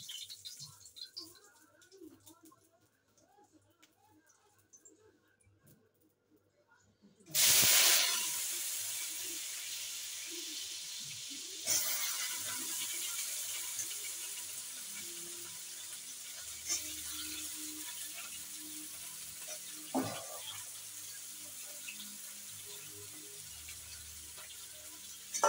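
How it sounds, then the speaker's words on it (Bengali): Potatoes hit a hot pan with a sudden loud sizzle that settles into a steady frying hiss with scattered crackles and pops, after a few quiet seconds of faint kitchen noise. "আলুটা একটু ভেজে নেবো।"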